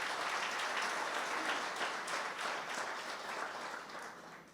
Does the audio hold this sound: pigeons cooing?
no